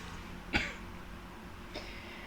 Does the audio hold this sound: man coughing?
yes